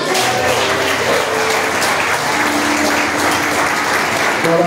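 A church congregation claps loudly and continuously, dense applause filling the space with faint voices mixed in underneath.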